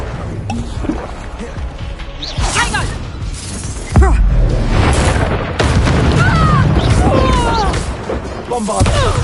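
Confringo blasting-spell explosions in Hogwarts Legacy, a dense run of booms and bursts with a heavy hit near the middle, over continuous loud game noise and effects throughout.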